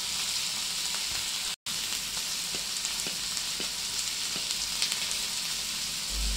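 Cluster beans sizzling and frying in a pan as they are stirred, a steady close hiss running continuously with faint scraping, briefly cut out once.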